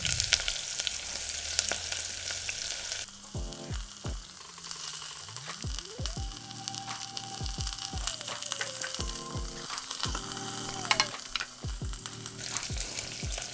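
Onions fry in a very hot pan, crackling and sizzling steadily up close, with a few scraping stirs and clanks of utensils breaking through the constant spitting hiss.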